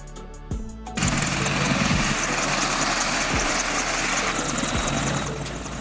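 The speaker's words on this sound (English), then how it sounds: "Military helicopter." Military helicopter flying, a loud steady rotor roar with a whining engine tone, rising abruptly after a brief quieter lead-in with rhythmic blade chop.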